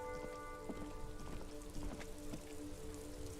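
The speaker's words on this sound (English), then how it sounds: "It's raining though." Rain in the video game Disco Elysium: a steady soft patter of drops on surfaces, fairly quiet and continuous, with a faint tonal hum beneath.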